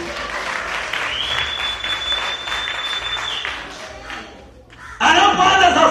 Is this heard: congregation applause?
yes